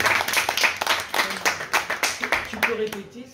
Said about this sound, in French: donc on peut applaudir encore une fois Maëlys.